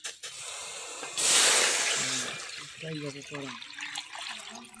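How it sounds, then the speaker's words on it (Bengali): Water poured from above into a wok set up to boil cabbage leaves, a broad rushing splash that swells for about a second, then settles as someone talks over the quieter simmer. "বাঁধাকপি সিদ্ধর জন্য জল দিয়ে দেব এখন"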